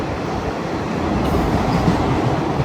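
A train on the Rayagada to Koraput line rumbles loudly along the rails, a continuous heavy roar with faint rattling, heard close as if from onboard.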